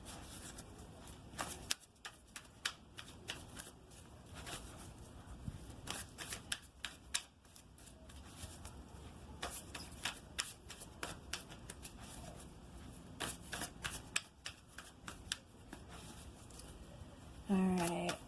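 Tarot cards are shuffled by hand in repeated quick riffles and soft slaps, close and fairly quiet, with brief pauses between bursts.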